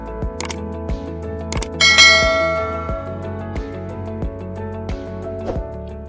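A bright notification bell chime rings out over a steady musical backing, with a shimmering burst of sparkle in the middle and regular soft beats throughout.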